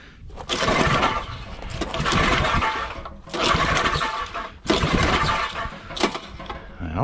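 Repeated pull-start attempts on a Roto-Hoe tiller engine set to full throttle and choke: three or four loud, raspy bursts of a second or so, separated by brief pauses, with the engine not catching.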